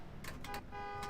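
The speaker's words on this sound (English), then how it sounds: "This car still has a horn." A car horn sounds in an Assetto Corsa online race, three or four short honks at close range over a steady engine drone, with the last blasts held longer.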